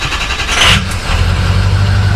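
A Ford Powerstroke diesel pickup cranks on a cold morning and catches, its engine turning over loudly and settling into a steady low rumble close by.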